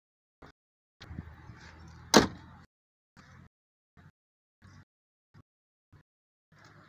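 Doors of a 1976 Toyota Corolla are worked: a few close clunks and one sharp slam, followed by scattered short knocks and rattles in an otherwise quiet space.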